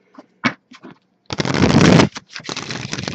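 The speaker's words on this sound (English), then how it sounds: "This deck apparently does not want to be shuffled." A stiff fractal tarot deck is handled with a few sharp card snaps, then riffle-shuffled in a loud close burst of rapid flutter that stops, followed by a second shorter riffle.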